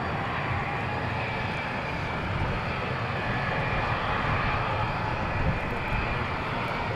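A United Airbus A321neo passes at Dallas Fort Worth International Airport, a constant loud jet engine roar that stays level throughout, close by and with no voices.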